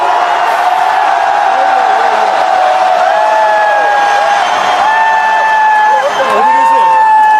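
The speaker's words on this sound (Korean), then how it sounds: "전방 함성 3초 발사!" Large crowd at an outdoor political rally in Gwangju roaring and cheering on cue, a loud sustained wall of shouts with rising whoops and calls over it for several seconds.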